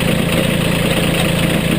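A 2017 Mahindra 1526 tractor engine idling close by, a loud, steady diesel drone with an even low throb and no talk over it.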